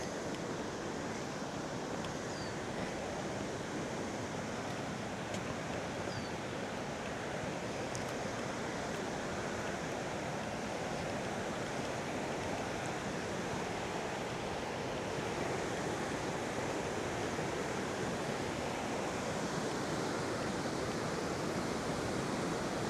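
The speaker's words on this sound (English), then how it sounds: "my guess is the waterfall is around that corner" Constant rushing roar of a waterfall in the Yorkshire Dales, heard from a short distance around a bend, a dense steady wash of falling water with no voices.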